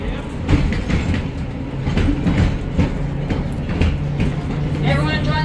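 Interurban trolley #64 rolling forward on rails at the Ohio Railway Museum, a steady close rumble with faint rail clatter and a high squeal near the end, under the chatter of passengers aboard.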